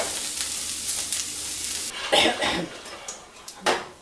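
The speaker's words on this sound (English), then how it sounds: "let it kind of get coated in that oil, and let it cook for probably around 5 minutes or so" Brussels sprouts cooking in oil in a skillet, a steady low sizzle over the first half, then a few louder clattering stirs and scrapes.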